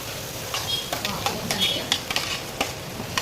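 Cabbage and chillies are stirred in hot oil in a pan, with a constant sizzle broken by repeated scraping spatula strokes. A voice is faintly audible underneath.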